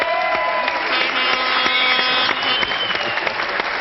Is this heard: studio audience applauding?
yes